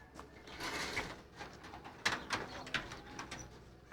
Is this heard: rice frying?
no